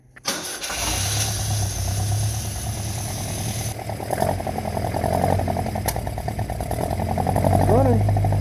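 An engine cranks briefly and catches, then settles into a loud, steady running rumble nearby, growing slightly stronger toward the end, with a voice speaking over it.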